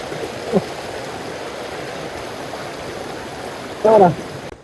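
Water of a mountain stream rushes and gurgles on the Permadi Guci route of Mount Slamet as hikers wade across, a continuous near flow broken by two short bursts of voices.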